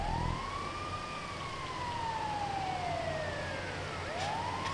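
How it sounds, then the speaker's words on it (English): An ambulance siren in GTA 5, a single continuous wailing tone sweeping slowly down then rising again as the vehicle passes close, over a steady engine and road rumble. "Overtaken by an ambulance."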